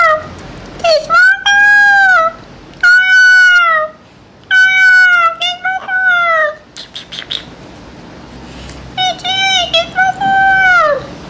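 A cat gives a series of loud, close meows in repeated drawn-out calls with short gaps between them. A person speaks in between.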